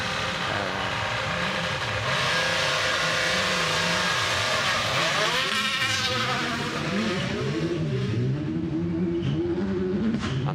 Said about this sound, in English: that was the roar of the Toyota Yaris Rally 1 car leaving the start line